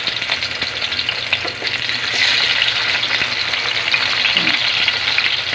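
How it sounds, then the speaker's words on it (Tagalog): Bangus (milkfish) fries in a pan for sweet and sour milkfish with pineapple, giving a steady close sizzle and crackle that grows louder partway through, with no talk. "I-light brown lang natin ng kaunti ang ating bangus"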